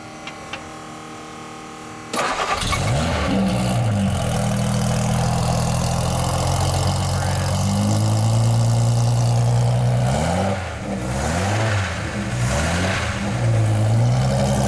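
A 1953 Hansgen Jaguar race car engine fires up after a brief crank and settles into a loud, close, lumpy idle with occasional throttle blips, running alone without talk.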